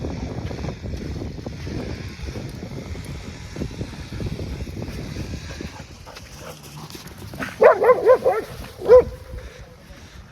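Dogs, including a second dog brought along, barking at goats outdoors, a few sharp barks clustered near the end after quieter rustling and wind, with a faint voice present.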